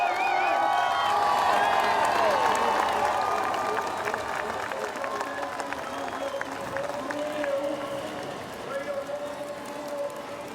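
A large crowd at the Glasgow 2014 Commonwealth Games cheers and applauds a Scotland cyclist coming in to finish, loud sustained roaring and clapping that eases slightly while a commentator talks over it.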